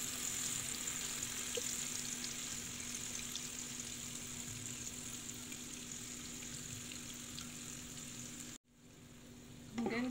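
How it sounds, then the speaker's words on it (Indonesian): Ground spice paste sizzles steadily in hot oil for rawon, East Javanese beef soup, a loud continuous frying hiss close up with no talk, cut briefly near the end before resuming. "Ini minyak sudah kita panaskan, kemudian bisa kita masukkan bumbu halusnya."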